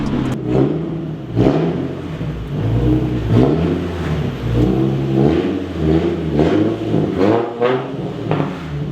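A Nissan 350Z with a new backfire tune revs hard in repeated loud, blaring bursts, the engine rising and falling between throttle blips with a brassy edge.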